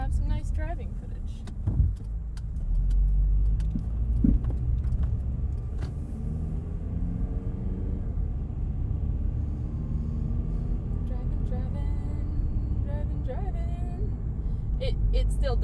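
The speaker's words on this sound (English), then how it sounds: "now we just have some nice driving footage" A car drives steadily along a road, its low, continuous engine and tyre rumble holding even and close throughout, with a brief change in tone near the start.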